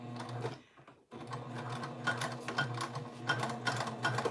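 Sewing machine stitching a seam around a basic tote bag, a fast rattling run that pauses briefly near the start and then continues in steady bursts, close and moderately loud, no talking.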